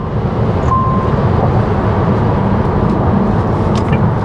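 An MG Windsor EV electric car drives in sports mode, giving a steady low road and wind rumble from inside the cabin with no talking.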